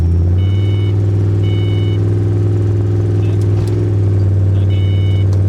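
Turbocharged Foxbody Mustang engine droning steadily at low revs during slow acceleration through gear shifts, a loud constant rumble close by with faint beeps over it.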